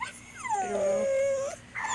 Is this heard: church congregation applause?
no